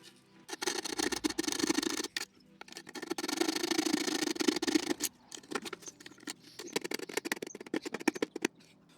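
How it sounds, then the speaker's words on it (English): A hacksaw cuts through the plastic dashboard of a VW Sharan, fitted for a USB mod, in rapid bursts of close scraping strokes with brief pauses between runs, no voices. "get a hacksaw and just cut as well as we can,"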